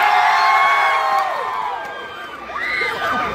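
Crowd at a political rally or caucus in Pasig cheering, whooping and shouting in a loud, sustained roar of many voices, with a few higher children's shouts standing out.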